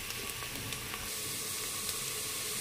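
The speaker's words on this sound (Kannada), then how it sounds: "ಫ್ರೈ ಆಗಬೇಕದು ಚೆನ್ನಾಗಿ." Egg butter masala frying in a pan, a steady close sizzle and hiss running continuously with faint crackles, no voices.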